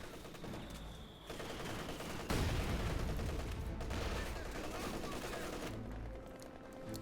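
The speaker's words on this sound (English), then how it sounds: "Now we have mortars shelling away." Mortars shell in a Company of Heroes 2 match, a dense, continuous barrage of blasts and gunfire that swells partway through and stays loud and close.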